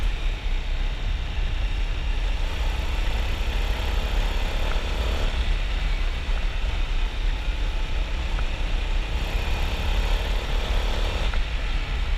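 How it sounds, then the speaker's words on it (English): An Indian FTR S 1200 motorcycle ridden hard in sport mode at a demo tour, its engine a steady, loud drone with a strong low rumble that rises in pitch through gear changes, accompanied by wind noise. "I'm going to ride this motorcycle aggressively."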